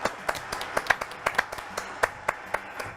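A small studio audience on a French TV show applauds a singer, sparse distinct handclaps at a quick, uneven pace, fairly quiet and close.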